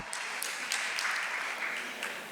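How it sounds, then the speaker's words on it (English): Continuous applause from a school district audience at a superintendent's presentation, a steady even patter of many hands at moderate distance, with no speech over it. "go ahead, Joanna, clap."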